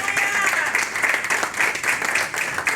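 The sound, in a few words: applause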